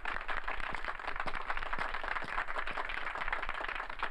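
Audience clapping after a comic acting imitation at a stage show, steady and dense applause from a crowd, loud and close throughout.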